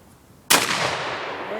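An old shotgun loaded with a skeet shell fires one loud, close blast, followed by a long, rolling outdoor echo that fades slowly.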